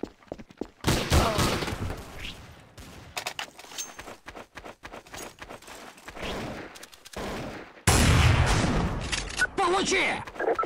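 Rapid gunfire from the video game Counter-Strike: Source, bursts of sharp shots and automatic fire crackling in clusters with brief gaps, loud and close, ending in a dense, sustained barrage.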